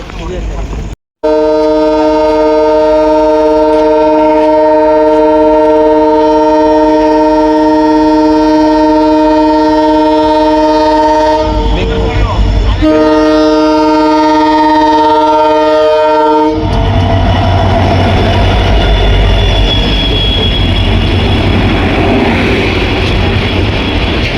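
A passenger train pulls out from Udupi: a loud, long, steady horn blast near at hand, a brief break, more horn, then the deep rumble and clatter of the wagons rolling on the tracks, with faint voices.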